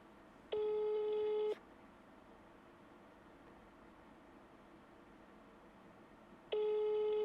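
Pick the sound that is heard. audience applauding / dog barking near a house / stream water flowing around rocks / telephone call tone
telephone call tone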